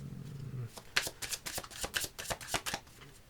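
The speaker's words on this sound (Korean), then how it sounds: "여기서 좀 추가 카드를 한번 뽑아보도록 하겠습니다" Tarot cards shuffled by hand before an extra card is drawn, a close, quiet run of crisp riffling flicks and soft slaps in an uneven rhythm, after a brief low hum at the start.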